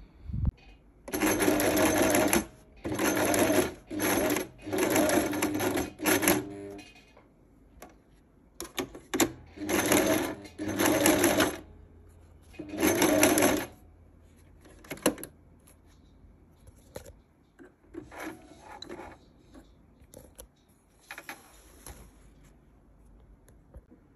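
A sewing machine stitching bag lining fabric runs in repeated bursts of rapid mechanical clatter, several loud runs of a second or two separated by short pauses, growing shorter and more scattered toward the end.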